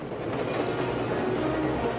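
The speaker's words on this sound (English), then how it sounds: "Sounds like a train now." A steam-era train of the 1950s Western lumber country, with a locomotive hauling cars and a caboose, rumbles steadily past on the rails in a loud, continuous roar with no talk over it.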